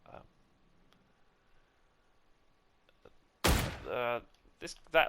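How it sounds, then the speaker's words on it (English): A single loud gunshot in a video game rings out sharply after a stretch of near silence, with a short ringing tail and a couple of smaller pops following. "I shot and I missed"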